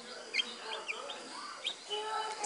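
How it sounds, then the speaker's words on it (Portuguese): A newly hatching chick peeps from inside a homemade incubator, giving thin high chirps in short bursts, fairly faint against a soft background hum. "Tá nascendo mais um pintinho."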